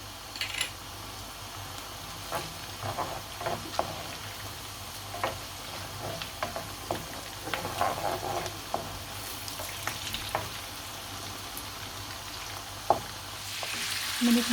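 Green chilies frying in hot oil for an egg and lentil curry, a steady close sizzle with scattered pops and crackles throughout, and occasional light stirring clicks.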